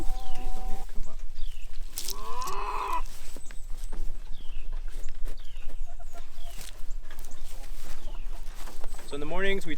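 Chickens cluck and squawk close by at a morning farm feeding, with repeated short calls and a couple of louder drawn-out cries amid steady background noise, no clear talking.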